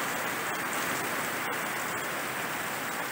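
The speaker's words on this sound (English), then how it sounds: "It's raining pretty hard right at the moment." Heavy rain pours steadily outdoors over a pond floor, a dense continuous hiss with scattered droplet ticks, close and constant with no talking.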